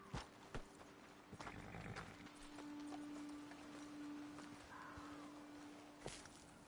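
Horses walking in the Red Dead Redemption 2 video game, with scattered hoof clip-clops, a few sharp thuds and soft movement sounds over quiet ambience; the sounds are faint.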